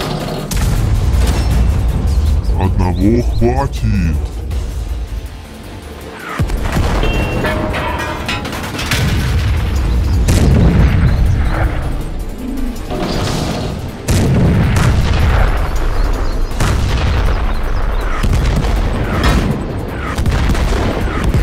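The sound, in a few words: cannon fire from all barrels in an animated battle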